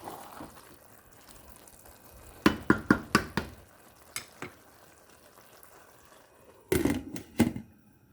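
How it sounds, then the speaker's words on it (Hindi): A spoon scrapes and knocks around a pot of chana pulao as the cooking water dries off, with clustered clinks and stirring strokes over a faint sizzle and no speech. "चम्मच चलाएंगे।"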